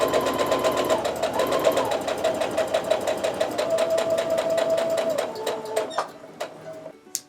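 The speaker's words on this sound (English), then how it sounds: "my sewing machine needle is coming down right on that" A sewing machine stitches steadily with a rapid, even mechanical whir and clatter, close by, then slows and stops near the end.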